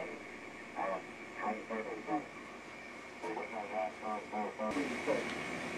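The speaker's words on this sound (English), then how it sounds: "The distortion is typical of a strong signal with a BFO." A radio receiver with its BFO on hisses with a steady tone and warbling, distorted bursts from a strong signal, the noise level shifting abruptly near the end.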